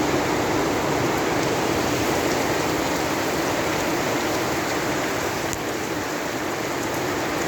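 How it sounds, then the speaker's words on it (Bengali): Torrential rain pours onto an empty street in a dense, unbroken roar, loud and close and steady throughout, with no voices. "বৃষ্টি মুষলধারে পড়ছে,"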